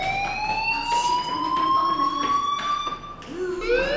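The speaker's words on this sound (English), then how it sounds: "Hey, do you hear that fire alarm?" A fire alarm wails continuously with a rising, sweeping electronic siren tone in the Life is Strange video game, steady and fairly loud, with a second sweep starting near the end.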